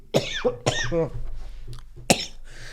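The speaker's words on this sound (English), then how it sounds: "Why are you coughing?" Several harsh, close coughs in a row followed by a throat-clearing hack after a short pause.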